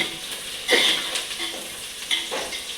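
Onions frying in a pan for a bachelor-style spicy chicken biryani, a steady close sizzle with brief louder bursts of stirring scrapes.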